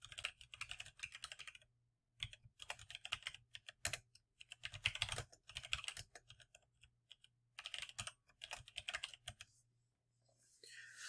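Computer keyboard typing in several bursts of rapid, uneven key clicks separated by brief pauses, close and fairly quiet over a low steady hum, with no talking.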